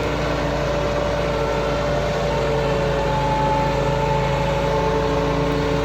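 A Massey Ferguson 385 tractor drives a rotavator through mud with a loud, steady, low engine drone that holds evenly throughout, with no voices.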